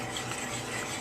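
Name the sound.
stirring thick Alfredo sauce with sour cream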